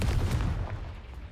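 A Confringo fire spell explodes in the Hogwarts Legacy video game with a heavy, booming blast that rumbles loudly and then fades out over about a second, with no voice over it.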